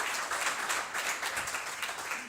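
Applause from a small audience seated at a live comedy show, steady dense clapping throughout without a break.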